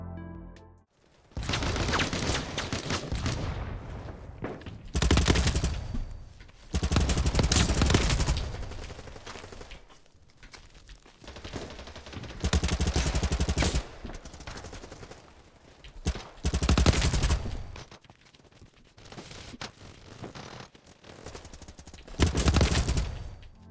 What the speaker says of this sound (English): I clear multiple people who are peeking on top of roofs with fully automatic, accurate fire